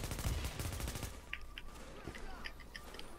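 Automatic turret gunfire in the video game The Division, a dense burst of shots up front that drops to scattered quieter bursts and clicks, with game ambience underneath.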